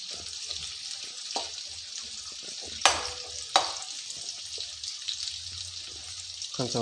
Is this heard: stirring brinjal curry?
yes